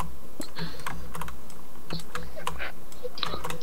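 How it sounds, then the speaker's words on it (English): Typing on a computer keyboard: quick, irregular key clacks run near and distinct over a constant low hum from the room. "because I'm typing something."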